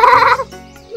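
A person imitates a goat with one loud, close, wavering bleat lasting under half a second, followed by a quiet tail.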